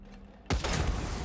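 Gunfire in the video game Wasteland 3: after a quiet moment, a sudden loud burst of shots breaks out and turns into a dense, sustained volley that stays up close and heavy with no talk.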